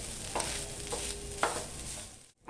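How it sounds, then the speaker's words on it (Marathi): Fresh grated coconut being stirred and sautéed in a pan over low heat for coconut burfi, with a soft continuous sizzle and a few distinct scraping strokes of the spatula, close and steady. "गॅस मंद ठेवायची आहे आणि सतत असं ना पाच मिनटं परतून घ्यायचं आहे करपवायचं नाही आहे"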